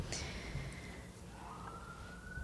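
A distant siren wails, its tone sliding down and then rising again over a low steady background rumble.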